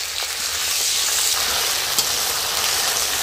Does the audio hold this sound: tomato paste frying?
yes